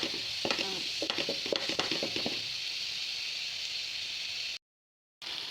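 A soft sizzle of potatoes frying in oil, with a few utensil scrapes early on, then steady hiss before a brief silent gap.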